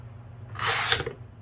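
A knife blade swipes once across the coarse side of a homemade stropping block, a short, close rasping scrape lasting about half a second in an otherwise quiet room.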